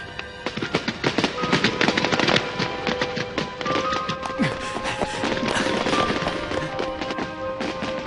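Leftover festival fireworks go off outdoors as a dense, continuous crackle of rapid small bangs and pops, loud and near, with a few whistling tones threaded through the barrage.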